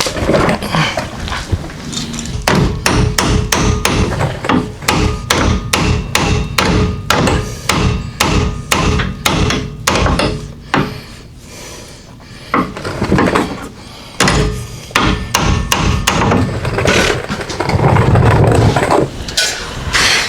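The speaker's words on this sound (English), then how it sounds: "every time you whack the hammer, crap comes down into your eyes" A hammer strikes over and over in loud, rapid whacks with a few brief pauses, each blow a sharp close thud, while pulling the engine from a 1947 Ford in a garage.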